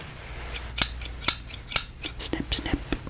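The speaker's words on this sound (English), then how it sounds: "And I need my scissors too." Scissors snip close to the microphone in a quiet ASMR setting, around ten crisp, separate cuts that come in a loose, steady rhythm.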